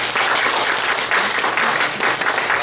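An audience at a cherry blossom festival karuta demonstration claps for both players, a dense, even round of applause sustained throughout without speech.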